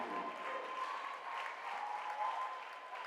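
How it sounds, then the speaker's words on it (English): Sustained applause and cheering from a crowd giving a standing ovation at a high school girls basketball game against East Coweta, steady and dense throughout with no talk. "she will leave with a standing ovation as well"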